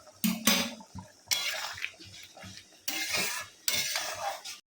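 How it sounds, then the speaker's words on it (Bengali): Potol, potato and prawn curry bubbling in a pan, with bursts of sizzling and stirring that come and go in several loud waves over a low simmer. "এবার 10 মিনিট এরকম ফুটবে।"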